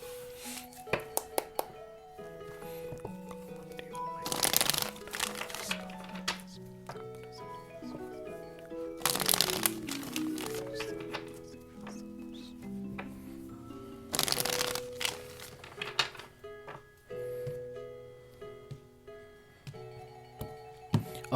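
Tarot cards being shuffled by hand in repeated riffling bursts with soft flicks and taps between them, close and fairly loud, with no talking.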